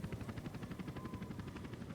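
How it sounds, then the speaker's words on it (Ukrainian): A helicopter in the video game Hitman 2: Silent Assassin gives a steady, rapid rotor chop with a low mechanical whir. The sound is faint and even, with no voices. "Запланована поїздочка на вертольоті."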